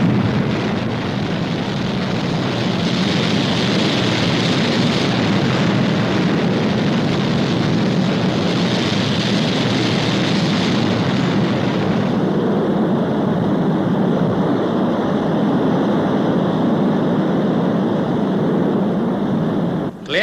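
Fireball XL5 rocket engine igniting and lifting off, a loud continuous roaring rush that holds steady for about twenty seconds, shifting tone partway through.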